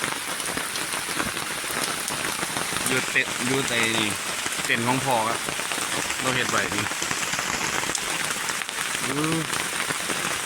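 Steady rain patters down outdoors during a mushroom-foraging trip, a dense hiss of drops on surfaces throughout. Someone talks over it in Thai.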